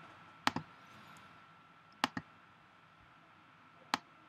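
A computer mouse clicks quietly in Microsoft Excel in a hushed room. Three separate crisp clicks land at intervals, and the first two come as quick paired taps.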